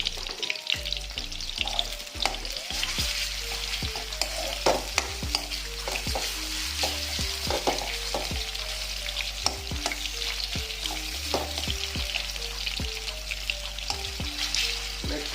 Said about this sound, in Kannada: ಆನಿಯನ್ಸ್ ಇಲ್ಲಿ ಫ್ರೈ ಮಾಡ್ಕೊಳ್ಳಿ ಜಿಂಜರ್ ಗಾರ್ಲಿಕ್ ಪೇಸ್ಟ್ ಒಂದು ಸ್ಪೂನು